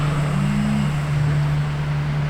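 A Toyota car's engine cranks while trying to start, a loud steady droning whine held throughout with a brief higher tone early on, close and alone.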